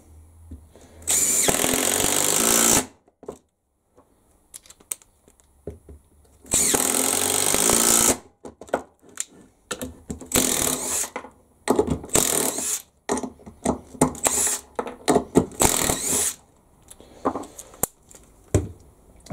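Two cordless Bosch GDR 18V-EC and Makita brushless impact drivers run in turn, loud and close, with two long sustained bursts followed by a series of shorter rattling bursts and pauses.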